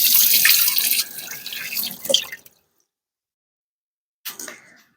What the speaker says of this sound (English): Give a little rinse.